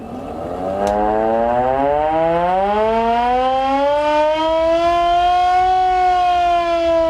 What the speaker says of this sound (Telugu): వైమానిక దాడులు జరిగే సమయంలో ఎయిర్ రైడ్ సైరన్స్ మోగిస్తారు